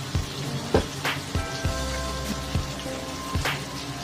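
Katla fish head sizzles in hot oil for mung dal as a spoonful of turmeric powder goes in, with a continuous frying crackle broken by several sharp spatula taps and scrapes.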